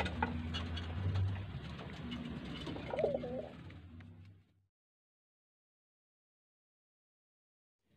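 Racing homing pigeons cooing close by amid rustling and shuffling sounds for about four seconds, then silence.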